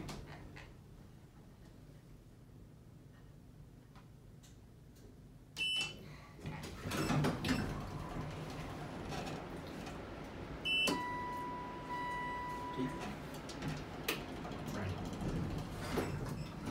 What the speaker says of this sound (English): Means the doors are closing